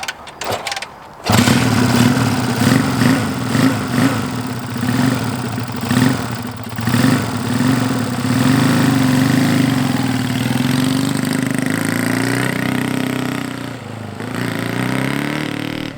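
A Honda Dream motorcycle engine catches after a brief start and settles into a steady, loud mid-pitched running drone that carries on throughout as the bike is ridden around a parking lot, with no talk over it.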